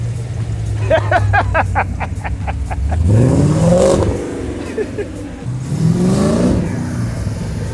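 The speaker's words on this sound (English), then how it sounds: "we'll take a break for the loud V8 that comes out in the middle" A loud V8 engine in a Nissan S13 Silvia revs up with a deep, swelling roar, rising in pitch twice, with crackling exhaust pops before the first surge.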